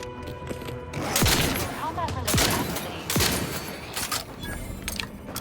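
Shotgun blasts in The Outer Worlds 2 fired at Raptidon creatures, three heavy booming shots spaced about a second apart, each followed by a mechanical pump or reload clatter, amid game combat noise.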